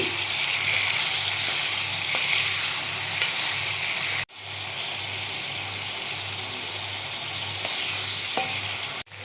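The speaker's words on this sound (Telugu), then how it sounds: "ఇలా ఆయిల్లో మనము ఇలా ఫ్రై చేసుకోవాలి ప్రాన్స్ని" Prawns frying in a small amount of oil, a loud, steady, hissing sizzle close by with faint stirring clicks, interrupted once by a short break, no voices present.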